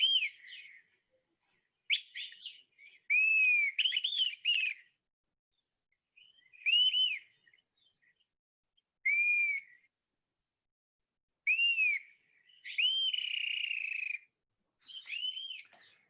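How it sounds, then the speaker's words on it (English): A dusky-capped flycatcher in the South Fork of Cave Creek, Arizona, gives clear, plaintive whistled calls in spaced bursts, some rising and some falling, alone against a silent background. "you'd find that's the song of the dusky-capped flycatcher"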